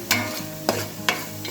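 Poppy seeds and coconut paste fry in a pan for a fish curry, with three sharp stirring scrapes over a steady, close sizzle.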